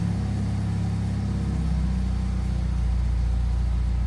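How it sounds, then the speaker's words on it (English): A car engine idles steadily after its fuel injectors were coded to cure a rough start, a smooth, even low drone heard close and alone throughout. "It starts right up. There is no hesitation. It doesn't hang around 500 RPM."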